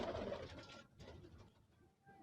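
Soft, low star pigeon coos sound close by against a busy rustling background, with no one speaking.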